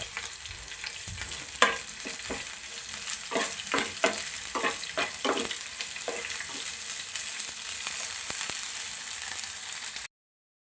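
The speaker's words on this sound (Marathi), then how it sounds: "कांदा यामध्ये मी आता टाकून घेते आणि कांदा गुलाबी रंग येईपर्यंत परतून घ्यायचा" Thinly sliced onion sautéing in a pan for Kolhapuri misal, a steady bright sizzle with repeated scraping strokes of a spatula, cutting off abruptly at the end.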